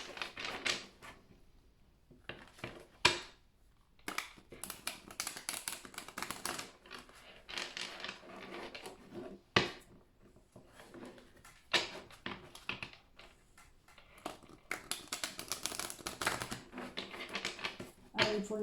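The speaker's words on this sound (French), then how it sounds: "je vais reprendre toutes les cartes en fait" Playing cards are gathered and shuffled by hand in a tarot-style reading, making repeated close riffling and snapping bursts at an uneven rhythm with brief gaps.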